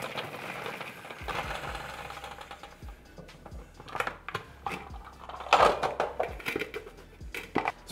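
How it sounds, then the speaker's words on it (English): Cauliflower being spun dry in a kitchen after washing, a whirring, rattling spin with clattering knocks and bumps that grows busier toward the end, fairly quiet and with no talking. "I'm gonna drain it, I'm going to spin it so it's nice and dry"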